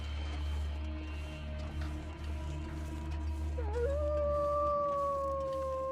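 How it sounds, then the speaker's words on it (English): Wind hisses steadily through the wilderness of the survival game The Long Dark. Partway in, a wolf's single long, clear howl rises and carries on mournfully to the end, heard at moderate distance. "Alright, well, you go ahead and howl there for a minute."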